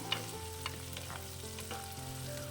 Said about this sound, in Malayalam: ചെറുള്ളിയാണ് കനം കുറഞ്ഞരിഞ്ഞ് അതുകൂടി ഒന്ന് ഫ്രൈ ചെയ്തെടുക്കണം